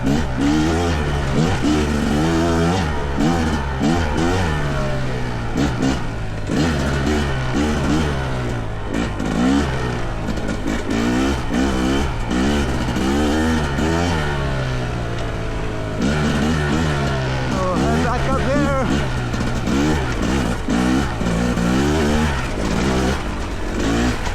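Fantic XE300 dirt bike engine revving steadily while being ridden and broken in, a loud, close, continuous motor drone with rising and falling throttle pulses throughout.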